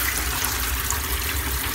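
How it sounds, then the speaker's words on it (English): Water runs from the tap into a bath in a home bathroom under renovation, a steady broadband rushing hiss that stays even and close throughout, with no speech. "we've just turned the water on the bath"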